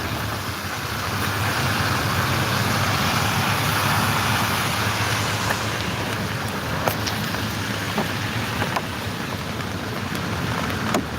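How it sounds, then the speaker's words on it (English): Steady rain hisses evenly throughout, with a few sharp drips tapping nearby against the constant wash. "Because it's raining."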